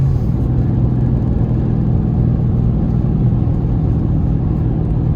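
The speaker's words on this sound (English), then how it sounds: "The intake be making some noise" Steady, loud car engine rumble with an intake drone, continuous and close, the engine holding a low throbbing note throughout with slight revving swells.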